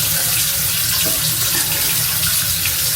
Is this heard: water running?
yes